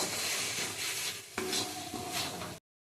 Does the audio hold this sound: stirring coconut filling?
yes